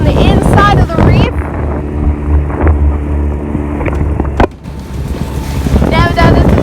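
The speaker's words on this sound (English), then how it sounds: "We're going on a dinghy mission" A small dinghy runs over choppy water inside a Caribbean reef, with engine drone, wind buffeting the microphone and hull thumps close by. Voices talk at the start and end.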